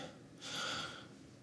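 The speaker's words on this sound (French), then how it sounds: "Je m'essouffle super vite." A single sharp, breathy gasp from someone winded after jump rope, close and fairly soft, one quick intake lasting about half a second with no talking.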